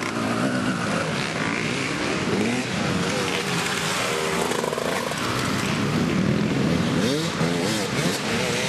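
Several Husqvarna motorcycles race past at a motocross event, their engines a loud, continuous raspy roar with rising and falling pitch as riders go by, filling the whole stretch.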